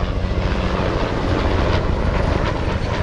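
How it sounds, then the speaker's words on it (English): A helicopter passes overhead at night in Da Nang, Vietnam, giving a loud, steady engine and rotor drone that holds constant throughout, with no talking. "Oh, a helicopter."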